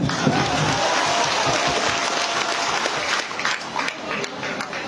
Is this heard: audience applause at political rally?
yes